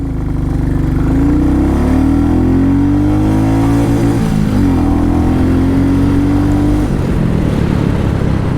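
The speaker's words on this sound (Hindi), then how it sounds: "I'm revving a Classic 350, and that too till the red line." A 2021 Royal Enfield Classic 350 motorcycle engine, a 350 cc single, revs loud and close from idle up toward redline. The drone rises and falls in several sweeps, then drops back to a rough idle near the end.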